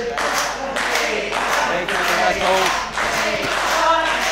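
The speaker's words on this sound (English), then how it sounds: "Crowd getting behind Andy Baker." Wrestling crowd at a Bennett vs Andy Baker match claps in a steady, rhythmic beat to rally behind Andy Baker, a dense, loud wash of hands with a commentator talking over it.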